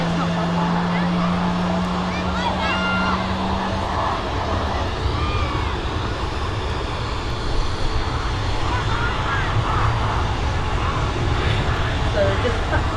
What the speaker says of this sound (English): So just taxing out ahead of the next 320 here at EasyJet